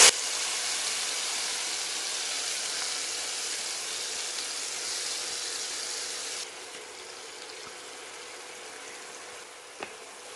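Onion, ginger and garlic paste sautés in hot oil with a soft, even hiss that drops to a quieter sizzle partway through, ending with a small clink.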